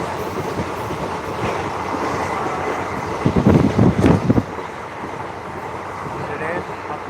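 A passenger train runs on rails in rural Bihar between Bajpatti and Muzaffarpur, its steady rumble swelling into a louder burst of wheel clatter midway, with a voice talking over it.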